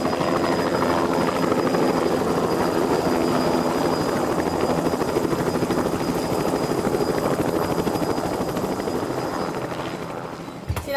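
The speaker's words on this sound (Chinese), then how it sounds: "哇，还不止一架直升机呢，有2架，还有一个黑色的。" Helicopters circling over a skydiving drop at a salt flat, a steady loud rotor thrum that stays close and continuous throughout before easing slightly at the end.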